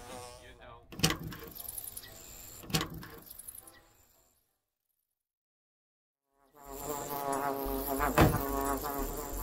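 A one-winged bee in Cartoon Network Journeys VR gives a fluttery buzzing mixed with game sounds and music, broken by a few seconds of near silence before the sound swells back.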